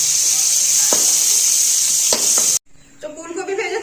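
Cauliflower frying in oil gives a loud, close, steady sizzling hiss, which cuts off abruptly near the end, leaving quieter kitchen sounds.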